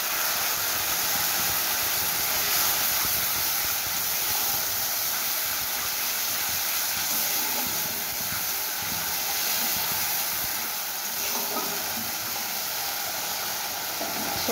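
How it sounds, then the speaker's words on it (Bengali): Mustard paste for a bhola fish curry hits a hot pan with a steady, loud hiss that fills the whole stretch without any talk. "এবার আমি সর্ষে বাটাটা দিয়ে দিই।"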